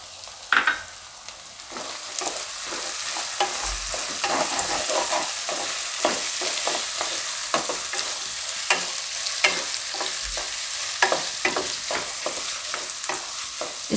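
Onion and capsicum frying in a pan for paneer bhurji, a dense close sizzle with a quick run of scraping, clattering stirs that grows busier toward the end, no voices.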